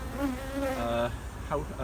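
Honey bees buzzing at a hive of field bees, a close droning hum with individual wingbeats rising and falling as bees pass, fairly faint and alone.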